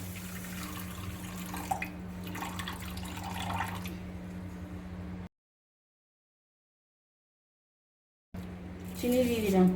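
Water runs and splashes into a pan as the base for a sugar syrup, a steady liquid rush with a kitchen hum beneath and someone speaking, then a gap of silence before more pouring and clatter.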